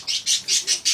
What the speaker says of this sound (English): Great chirping.